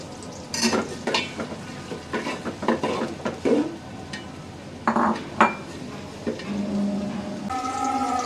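Onions frying in a generous amount of oil for biryani, sizzling under repeated stirring strokes and the clink of a metal spoon against the pot, with a steadier hiss toward the end.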